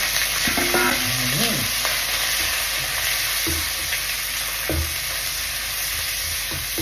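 Chopped chicken sizzles and crackles while being stir-fried in a hot pan for Thai basil chicken, a utensil scraping and stirring it in short strokes, close up, with no talking.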